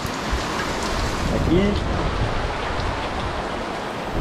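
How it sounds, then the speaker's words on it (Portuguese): A heavy rain shower pours down steadily on Ua-Pou island, a dense, even hiss of falling water close by, with a brief spoken word partway through. "aqui a grande chuvada"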